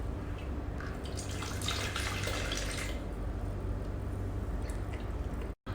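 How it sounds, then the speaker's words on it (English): Water hisses and trickles steadily as it is poured into a machine, with a brighter rush partway through before it settles back to a low, continuous flow. "Now we inject water."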